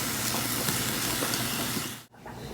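Grated coconut dry roasting in a hot pan, giving a steady close sizzling hiss that runs unbroken, with a brief drop near the end before it resumes.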